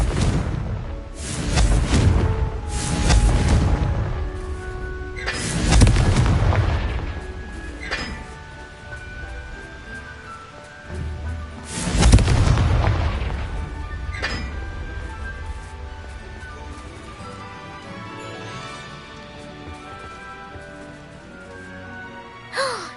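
Confringo blasting-spell explosions in the Hogwarts Legacy video game: several loud booming bursts at irregular intervals, each with a crackling, clinking tail, the last heavy blast followed by a lingering rumble and faint debris.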